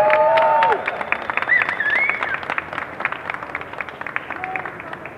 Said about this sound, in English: I want to hear a big round of applause for her.